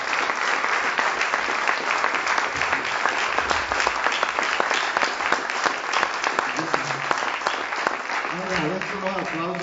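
Sustained applause from a seated audience at a book presentation in a hall, steady and dense clapping from start to finish with a few faint voices mixed in toward the end.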